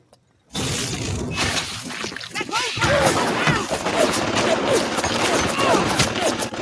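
Rapid gunfire from hacked bots in a video game, a dense continuous crackle of shots that starts abruptly and keeps up loud throughout, with game noise layered in.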